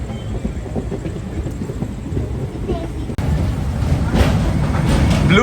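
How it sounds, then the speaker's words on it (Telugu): The SMVT Bengaluru–Danapur special train with blue coaches rumbles past close by. The heavy, broad roar grows louder and denser halfway through. "ఎస్ఎంవిటి బెంగళూరు దానాపూర్ స్పెషల్ బండి అది"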